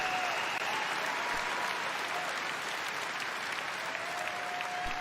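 Steady applause from a large audience at BlizzCon 2023 fills the whole stretch, a dense, even wash of clapping with no talking.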